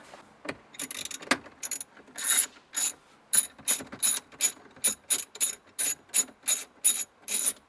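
A hand ratchet with an extension backs out screws on the dash of a 2009–2013 Mazda 6 during a car stereo installation, making rapid rhythmic clicking bursts that come steadily faster and more regular, close and clear.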